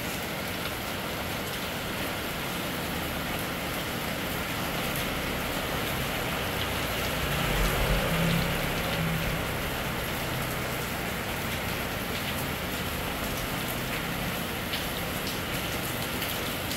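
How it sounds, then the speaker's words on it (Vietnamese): Steady evening rain falls over a street in Saigon's District 6, a dense, even hiss of drops on surfaces that holds throughout, with a slightly fuller swell of low rumble near the middle. "Sài Gòn trời đang mưa."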